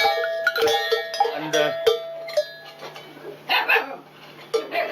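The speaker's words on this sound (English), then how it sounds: "is the bells of" A metallic cowbell on a cow clanks irregularly and fairly close, each strike ringing briefly, with a few dull knocks in between.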